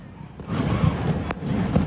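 Fourth of July fireworks burst over the Blue Bridge in Grand Rapids, with a few sharp cracks and booms over a rumbling crowd.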